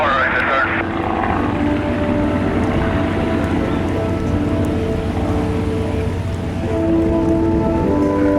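Replica Great War biplanes drone overhead at an airshow, a steady propeller engine hum over open air while a commentator talks throughout.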